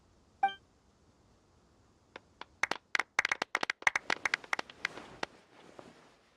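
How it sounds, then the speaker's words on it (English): Scattered crowd applause from an award ceremony in the game Genshin Impact, opening with a short chime, then sparse claps that build into a quick burst of clapping before thinning out. "Let's give our champion Kaveh one last big round of applause."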